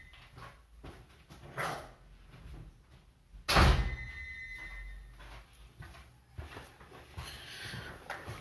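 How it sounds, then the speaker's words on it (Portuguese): An indoor door is pushed shut with a single solid thunk midway, amid faint room noise and a dog barking softly in the background. "Deixa eu só encostar a porta"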